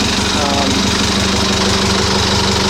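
A Catalina 400 Mark II sailboat's inboard engine runs steadily after a fuel filter change, a loud, close, even idling chug with a constant mechanical vibration and no voices.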